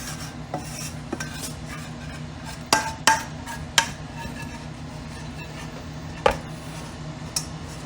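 A spatula scrapes dark, rich sauce out of a pan for an apple pie, giving a steady rasping rub broken by several sharp clinks of the utensil against the pan.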